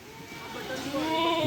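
On a goat farm in the evening, goats waiting in their cage for dry lucerne give short, wavering bleats that rise at the end, heard close and at moderate loudness against a steady background hum.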